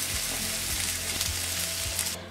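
Salmon frying in ghee in a pan, a steady, close hiss of sizzling fat with faint crackles and low knocks throughout, fading slightly at the very end.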